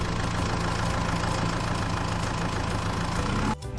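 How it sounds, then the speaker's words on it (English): A tractor engine runs at a steady idle, a continuous low rumble with a faint knocking pulse, holding level before cutting off abruptly near the end. "Tractor."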